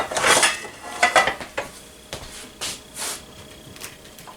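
A metal spatula scrapes and breaks baked holiday clusters into small pieces on a pan, with irregular clinks and short scrapes that fade into softer taps.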